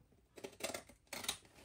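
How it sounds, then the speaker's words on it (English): Big scissors slice through paper for a small handmade book, giving a few quiet, close, crisp snips that come in short bursts with pauses between them. "I'm gonna use my big scissors."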